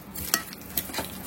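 Food sizzles in a pan in a home kitchen, a steady close fry broken by several quick metallic scrapes and clinks of stirring, with no voices.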